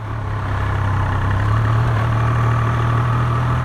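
Steady, close engine note of a Triumph Tiger Sport 800 three-cylinder motorcycle pulling away, a continuous even drone with no break.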